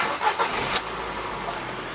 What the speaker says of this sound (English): we're going to start the engine, heater on, AC off, internal blower on 1.